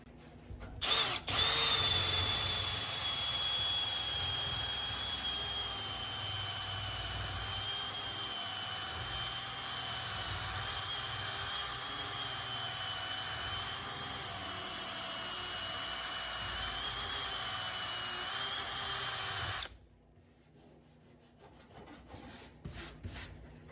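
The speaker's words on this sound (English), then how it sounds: "So let's try the rubber eraser wheel" Drill spinning a rubber eraser wheel to strip a 20-year-old clear bra off a Mini Cooper, a sustained high whine with rubbing grind, held steady for about twenty seconds at close range before cutting off, leaving light handling noises.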